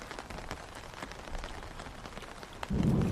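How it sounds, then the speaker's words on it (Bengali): Heavy rain drums steadily on a surface through a dark, stormy cartoon night on a river, a constant hiss of drops, with a louder low rumble swelling in at the very end. "বৃষ্টি একটুও কমার নাম নিচ্ছে না,"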